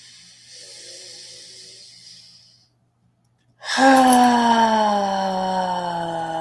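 A deep breath taken during a guided breathing exercise: a long airy inhale, a brief pause, then a loud, drawn-out voiced sigh on the exhale that slowly fades.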